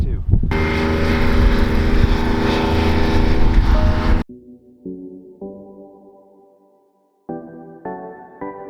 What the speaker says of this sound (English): The Fab Suite exhaust is so loud.